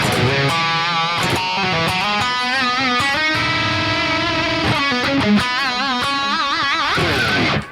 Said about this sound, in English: a bit more of a saturated sound with some reverb and delay